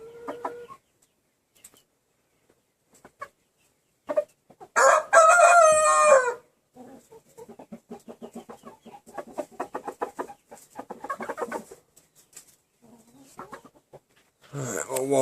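Show birds, a rooster with two hens, crow loudly once and then cluck in a rapid string of short calls, with scattered softer clucks before and after, close by outdoors.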